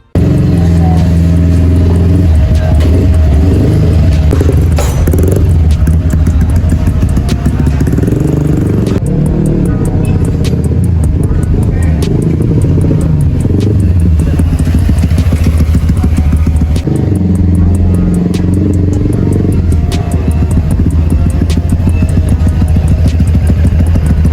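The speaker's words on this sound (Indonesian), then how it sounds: "sekarang motor sudah nyala guys" A Yamaha Vixion NVL 150cc motorcycle engine runs loudly and steadily throughout, with a deep rumbling idle, occasional revs, and some metallic clatter close by.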